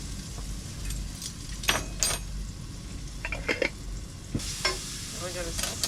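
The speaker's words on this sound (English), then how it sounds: "we're going to sweat off all of these vegetables" Chopped vegetables with ginger and garlic sweating in a hot pan, a constant low sizzle broken by several sharp stirring scrapes and utensil knocks against the pan.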